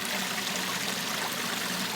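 A leak in Royston, Barnsley, sends water pouring into a drain, heard as a steady, close, unbroken rushing trickle.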